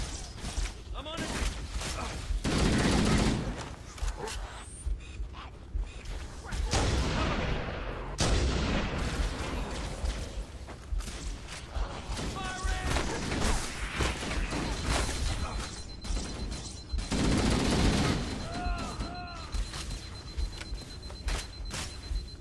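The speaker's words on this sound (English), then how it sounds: "Stationary guns are gonna tear us to pieces!" Stationary gun turrets fire in Halo: Combat Evolved, heavy rapid booming bursts and mechanical rattles running through most of the stretch, with a voice talking over the gunfire at times.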